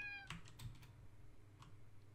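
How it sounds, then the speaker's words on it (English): A cat meows inside the video game Rakuen, one brief meow near the start followed by faint clicks, quiet and alone over a soft background. "Cat?"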